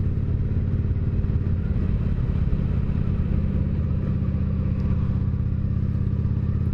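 A Honda Shadow Aero cruiser rumbles at a steady pace on a road ride, its engine drone constant and fairly close under wind noise, with no talking.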